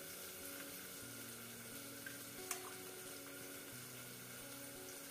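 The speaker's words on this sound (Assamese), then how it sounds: "এইফালে মই আলু ভাজি আছোঁ" Potatoes fry in a pan on a gas stove, giving a faint, steady sizzle with an occasional soft clink, under a low continuous hum.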